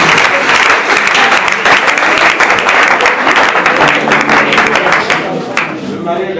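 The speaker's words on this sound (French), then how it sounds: "est-ce qu'on peut acclamer bien pour Seigneur Jésus" A church congregation bursts into loud, sustained applause and clapping at a French and Lingala sermon on eschatology, a dense crowd roar that holds steady for several seconds.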